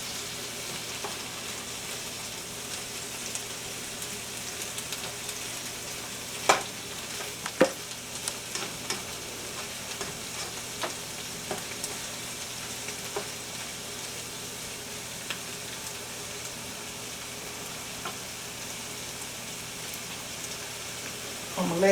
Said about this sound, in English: I'm gonna put just a little bit of this bacon dripping over here.